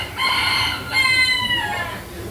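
A rooster crows loudly twice in the middle of Hanoi city, with chickens nearby, the calls close and clear against a low urban murmur.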